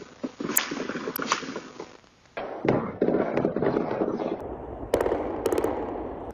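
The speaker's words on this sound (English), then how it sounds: "Neighbors' Ring doorbells caught some gunshots on camera." Several sharp cracks of gunfire, recorded by a neighborhood doorbell camera, ring out at a distance, some in quick bursts, amid an outdoor hiss and a brief quiet gap.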